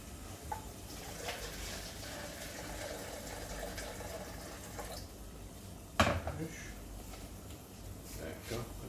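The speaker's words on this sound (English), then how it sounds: "To this I'm going to add about 300 milliliters of water." Water poured into a pan of tomato soup in a home kitchen, a soft running trickle with a sharp clatter of the pan partway through, quiet and close.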